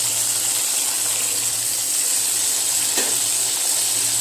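Ground spice paste hits frying tomatoes in a pan for a spicy fish curry, giving a steady, even sizzle with faint hissing throughout and a brief wet splash near the end.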